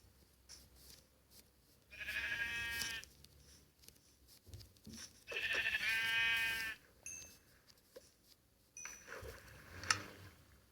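Sheep in Minecraft bleating in a few separate, clear calls, with quiet game ambience between them and no talking.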